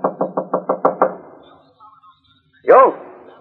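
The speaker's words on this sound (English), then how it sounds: "Didn't you hear me knock?" Seven quick, even knocks on a door ring out close and clear as a radio drama sound effect, then a pause before a voice speaks.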